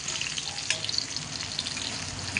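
Pointed gourd (putala) frying in a pan, a steady close sizzle with faint crackles and a few soft stirring clicks, no talking.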